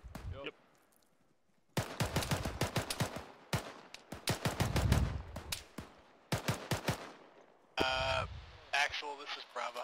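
Bursts of rifle and machine-gun fire crack out in rapid volleys during an infantry assault on an objective, loud and close with sharp repeated reports, pausing between bursts while people shout over them.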